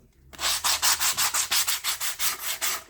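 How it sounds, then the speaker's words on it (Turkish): Sandpaper rubbed by hand along the wooden planking strips of a cabin boat model, about a dozen rhythmic back-and-forth strokes, close and crisp, with no talking. "Buradaki dikkat etmemiz gereken şey zımparalarımızı böyle vurmuyoruz."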